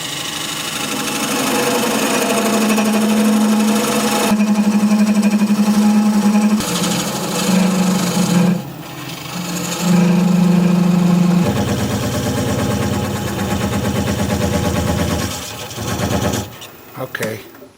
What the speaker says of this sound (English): So I've got my thin parting tool. Got the lathe spinning at about 750 RPM.